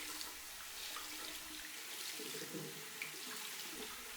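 Used polishing pads squeezed and rinsed under a running tap, a steady rush of faucet water, faint and close, with brief squishing changes partway through and no talking.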